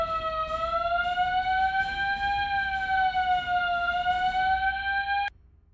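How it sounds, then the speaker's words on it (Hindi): A home's central alarm system wails, a loud steady electronic siren with a slowly wavering pitch that sounds without pause for about five seconds and then cuts off abruptly. "पूरे घर में सेंट्रल अलार्म सिस्टम लगा रखा है।"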